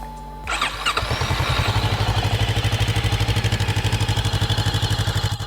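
A Voge DS500 motorcycle engine cranks over and fires, then settles into a steady, even idle with a fast rhythmic pulse. It is close and loud, with no one speaking.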